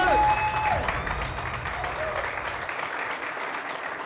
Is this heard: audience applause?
yes